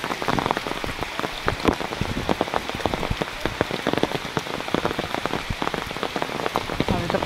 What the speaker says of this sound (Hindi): बारिश नहीं थी, बारिश चालू हो गई